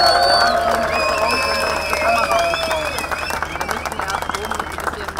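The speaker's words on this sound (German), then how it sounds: "schenkt ihm jetzt mal einen dicken Applaus" Crowd at an open-air cannabis parade in Berlin applauds as a speaker is called to the stage, clapping strongest at first and thinning out, with voices and an announcer talking over it.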